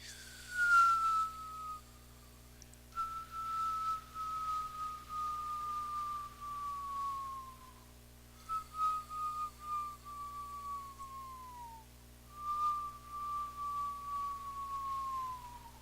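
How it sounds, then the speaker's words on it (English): Several long breathy whistles from pursed-lip breathing, each sliding gently downward in pitch, separated by short pauses over a faint steady hum, fairly quiet and close. "Now that pursed lips can stay breathing this way, or it turns into a whistle if you can."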